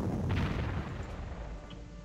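An anti-tank gun fires in the wartime strategy game Panzer Corps, a single low, booming shot that rolls on and decays over about two seconds, moderately quiet.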